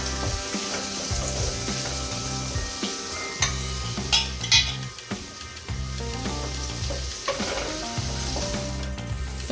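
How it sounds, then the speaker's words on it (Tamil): Finely chopped tomato and onions sautéing in a pan for Chettinad chicken gravy, a steady sizzle with intermittent scraping and stirring of a spoon against the pan, close and continuous with no talk. "பொடி பொடியாக கட் பண்ணி அதை போட்டு அதையும் நல்லா வதக்கிக்கலாம்"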